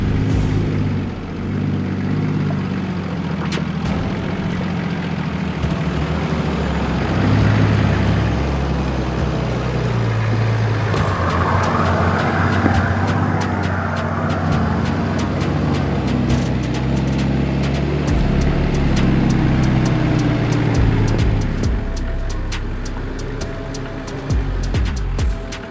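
A 4WD vehicle grinds up a steep, deeply eroded, muddy track in wet Toolangi State Forest, its engine laboring steadily and close throughout, with fluctuating revs and occasional clunks over the ruts.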